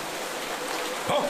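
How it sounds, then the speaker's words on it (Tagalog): Steady hiss of heavy rain fills the clip, loud and continuous, with a brief splashy burst near the end. "Ang lakas pala ng ulan ngayon!"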